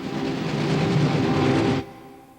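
A locomotive-hauled passenger train rolls along the rails with a loud, steady rumble and rhythmic clatter for nearly two seconds before cutting off sharply to a quiet hiss.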